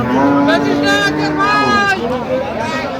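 Cows with calves moo loudly nearby at a cattle market, long low calls overlapping, over a busy crowd murmur of voices chatting in the background.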